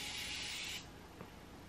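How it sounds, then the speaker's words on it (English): A short, soft hiss of Morphe Continuous Prep and Set setting spray misting onto a face lasts under a second, close by, followed by quiet. "I'm actually using the Morphe, the continuous prep and set spray"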